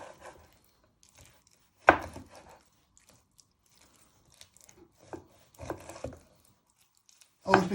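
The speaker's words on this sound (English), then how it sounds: "you want to finally dice it." A sharp knife dices raw chicken, giving a few spaced chopping knocks, including a loud one early and a burst at the end, close and clear with quiet gaps between.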